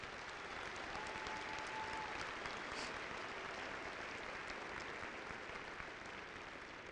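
A graduation crowd applauds the class of 2018 with continuous many-handed clapping, even and sustained throughout, heard from some distance in a large space.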